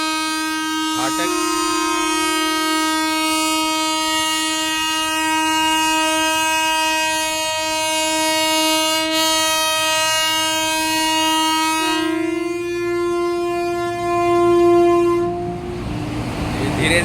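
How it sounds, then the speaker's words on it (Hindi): A five-coach passenger train on a branch line near Bhatni–Salempur–Barhaj, passing a level crossing with a long, steady horn blast and continuous rumbling that cuts off near the end, close and loud throughout. "धीरे पूरी ट्रेन निकल जाएगी।"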